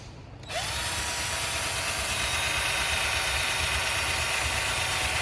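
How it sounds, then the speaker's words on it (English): A power drill starts up and runs steadily, drilling new holes in the metal housing of a stove blower, with a high, continuous whine and grinding buzz, loud and close, with no pauses. "just drill new holes in the housing"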